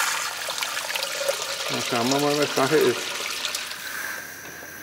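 Water runs in a steady trickling stream from a steam locomotive's feed pump while someone speaks briefly over it.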